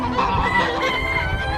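Chickens on a smallholding cluck and call in a busy, overlapping jumble at close range, with a faint crowing note and bird chatter running steadily throughout.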